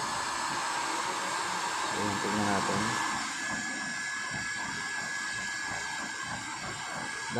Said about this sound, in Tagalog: Dahan-dahan ko pong binubuksan mga paps yung ating switch ng blower.